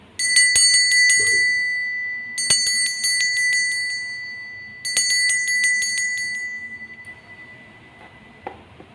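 A bright bell rings in three separate bursts of rapid metallic dings, each trailing into a ringing decay, marking the start of a tarot reading; quiet room otherwise, no talking.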